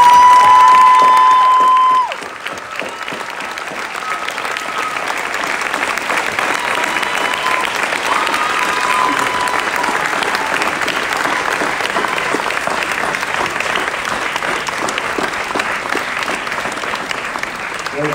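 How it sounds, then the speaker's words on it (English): Graduation audience at Northwestern University applauding, a loud sustained wash of clapping from a large crowd lasting many seconds, following a brief tone at the start. "I want you to applaud all the people in your lives who have helped make today possible"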